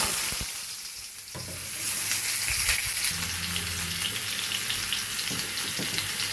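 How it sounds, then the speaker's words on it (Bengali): Pointed gourd (potol) frying in hot oil, a steady close sizzle and crackle with faint stirring scrapes running continuously throughout. "এদিকে আমার তেলটা গরম হয়ে গেছে এই জন্য আমি পটলটা দিয়ে"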